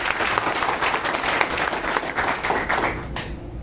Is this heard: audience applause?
yes